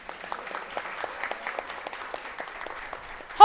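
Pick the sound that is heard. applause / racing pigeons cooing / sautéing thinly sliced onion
applause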